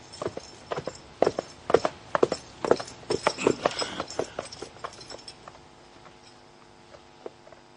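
Horses' hooves clip-clop at a walk in a historical drama about Genghis Khan, a dense run of sharp, close hoof strikes with a ratcheting tack-like clatter that thins out to sparse steps.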